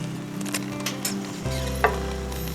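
Cooked rice is stirred into a sizzling capsicum masala in a pan over low heat: a low frying hiss with several scraping strokes and one sharp spoon clink, close and alone.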